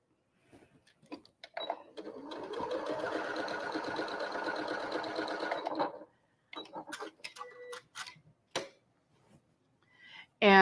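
Up close, a sewing machine runs a steady burst of about four seconds, stitching a quarter-inch seam along a quilt block. It starts and stops quickly and is followed by light handling clicks and rustles.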